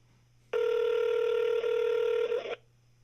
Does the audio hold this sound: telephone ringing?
yes